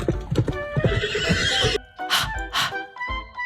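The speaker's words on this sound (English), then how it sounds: "Horse." A horse whinnies loudly with a shaky, drawn-out neigh, followed by a few snorts and shorter calls.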